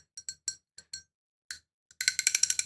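A cheap little $5 bell rings with a thin, glassy clink like a cup being tapped: several separate light strikes, then a quick run of rapid jingles, close and bright.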